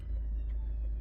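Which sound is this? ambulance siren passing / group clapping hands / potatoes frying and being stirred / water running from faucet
ambulance siren passing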